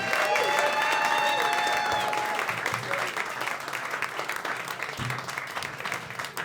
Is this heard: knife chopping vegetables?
no